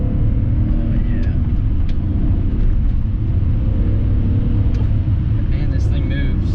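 A BMW 540i saloon accelerating, a loud, steady low engine rumble that carries throughout, with road noise and brief voices over it.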